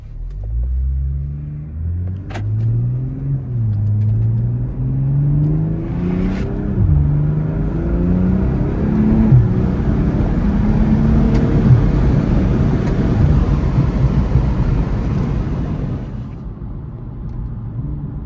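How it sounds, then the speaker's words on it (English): A 2022 BMW M240i revs loudly in sport mode with exhaust valves open, climbing through the gears, its exhaust droning and rumbling steadily close by for a long stretch, with no talk. "this is where the valves in the exhaust open to make the car a little bit louder"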